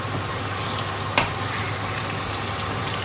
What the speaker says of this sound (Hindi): इन सारी चीज़ों को कैसे फ्राई करेंगे।